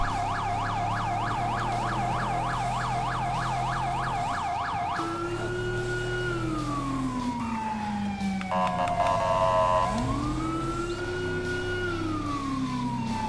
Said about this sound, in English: we do have a siren for the stations already there, Lindsay.